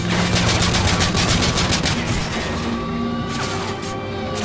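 Sustained rapid gunfire from Call of Duty: Modern Warfare 3, loud and close, with dense automatic bursts and crashing impacts that thin out slightly toward the end, with no talking.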